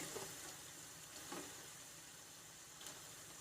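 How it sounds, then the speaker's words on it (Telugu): Mustard seeds fry in oil for a tomato pickle, making a faint, even sizzle with occasional soft crackles throughout. "ఆవాలను కూడా వేసి వేయించుకోవాలి"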